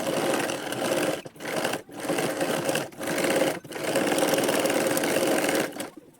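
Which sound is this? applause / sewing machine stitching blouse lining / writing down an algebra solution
sewing machine stitching blouse lining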